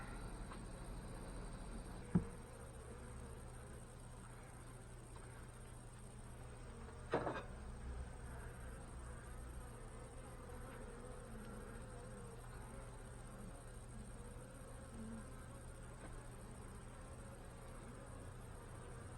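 Honey bees buzzing around a hive frame carrying brood and eggs in an apiary, a faint continuous drone with a couple of brief knocks.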